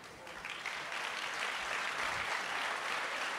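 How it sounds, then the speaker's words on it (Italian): Audience applause at a Partito Democratico political event in Italy, a steady, dense clapping that holds throughout and swells slightly toward the end, with possible faint voices beneath. "dagli applausi dell'ex segretario Bersani, insomma, mi sembra ci sia una calda accoglienza per lei."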